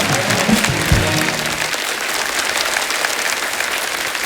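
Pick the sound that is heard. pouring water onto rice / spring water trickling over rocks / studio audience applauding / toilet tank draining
studio audience applauding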